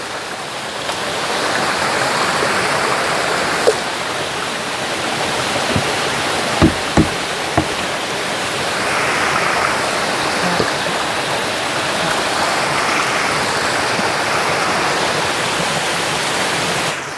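A forest stream flows with a steady rushing wash of water throughout, with a few faint knocks and clicks near the middle and no speech.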